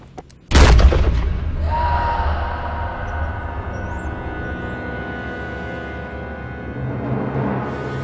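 A single loud gunshot cracks out in a dramatic short film scene, a sharp blast followed by a long rumbling echo that fades slowly into low ambient tone.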